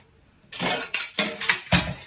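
A metal knife pries a chocolate oat cake out of a baking pan with four or five sharp clanks and scrapes against the metal, close and clear with no talking.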